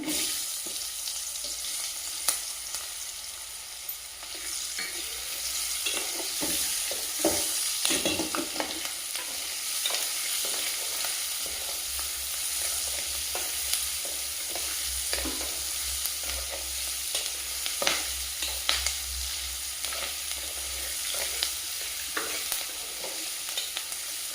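Onions frying in hot oil in a pan, a steady bright sizzle running throughout with occasional scraping and clinking stir sounds, close and without talk.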